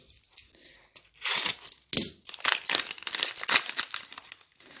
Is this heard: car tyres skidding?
no